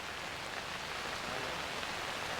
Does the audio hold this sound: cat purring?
no